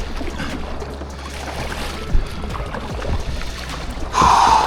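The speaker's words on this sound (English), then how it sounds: "Back in the old kayak." A kayak paddles out on the water in New Zealand, soft strokes and water sloshes against a steady wind-and-water background, with a louder rush of water or wind at the very end and no talking.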